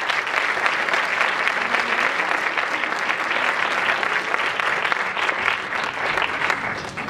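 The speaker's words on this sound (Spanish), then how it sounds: "Un aplauso, por favor." Steady applause from an audience at a women's council event in a hall, sustained and even clapping for several seconds with no break.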